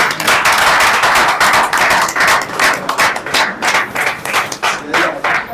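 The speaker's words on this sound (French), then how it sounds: "si je vous demanderais d'applaudir très très très fort" A crowd applauds loudly and vigorously for Senator Gentiny Ngobila at a political campaign launch event, with dense, rapid clapping sustained throughout, pulsing in rhythmic surges toward the end.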